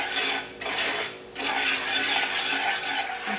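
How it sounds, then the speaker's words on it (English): A spoon scrapes and stirs thick cognac caramel around a pan, close and loud, in long sweeping strokes with two brief pauses between passes and a light sizzle beneath. "After a couple of minutes, the caramel becomes thick, as you see. Make sure you keep stirring."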